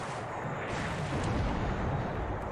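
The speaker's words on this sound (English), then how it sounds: "Right, torpedoes out." Torpedoes fire in a War in the Pacific naval battle, a steady, dense rumbling roar that fills the whole stretch without clear individual shots.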